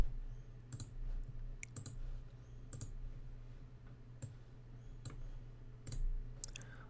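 A computer mouse clicks a handful of times at an irregular pace, faint and close, over a low background hum while Excel sparklines are set up.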